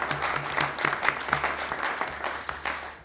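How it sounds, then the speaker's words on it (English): A city council meeting crowd bursts into brief, lively applause, dense uneven clapping that swells and fades over about three seconds. "I think that deserves a round of applause"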